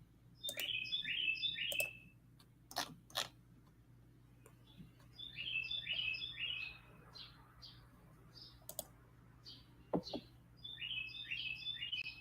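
Small birds chirp outside in repeated bursts of quick high trills, several separate phrases over low steady background hum, with scattered sharp clicks and taps between calls.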